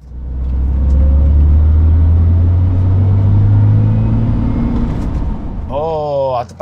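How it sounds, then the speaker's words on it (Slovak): An Aston Martin DB7 engine roars nearby under load while overtaking a bicycle, with a rising supercharger whine layered over the rumble before it fades and shifts near the end. "A práve ste počuli pri predbiehaní bicykla ten zvuk, na ktorý som sa najviac tešil, to je zvuk kompresoru."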